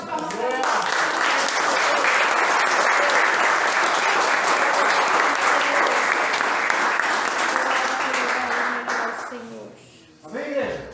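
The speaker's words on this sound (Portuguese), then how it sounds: "Uma salva de palmas para Deus." A church congregation breaks into loud, sustained applause that fills the room evenly for several seconds, then tapers off, and voices speak as it dies away.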